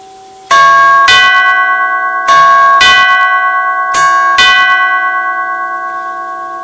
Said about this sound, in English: for the rear door, you get to hear the 2-note ring of what I assume are only the very earliest L model chimes